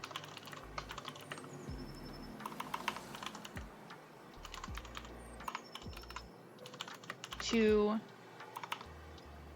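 Typing on a computer keyboard: quiet, close clicks and clacks in irregular bursts throughout, with a person speaking softly now and then and a brief tonal chirp near the end.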